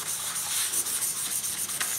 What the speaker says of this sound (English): I was sanding that with dry sandpaper.